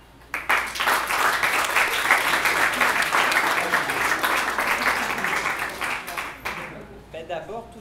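A theatre audience bursts into loud, dense applause that holds steady for about six seconds during a show poll, then fades as a voice begins speaking over the last scattered claps.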